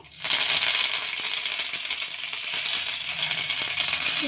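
Mustard seeds and curry leaves splutter in hot oil, a dense crackling sizzle that starts abruptly and stays loud and steady, peppered with quick popping bursts and no voice over it.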